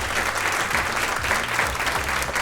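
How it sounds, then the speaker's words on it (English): An audience at a live radio show recording clapping together, a dense, steady round of applause filling the room at close range. "Give yourselves a round of applause for being here today."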